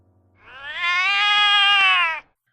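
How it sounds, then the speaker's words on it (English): A single loud, drawn-out cat screech rises and holds for nearly two seconds before cutting off abruptly, close and alone. "The sound of a screeching cat shattered"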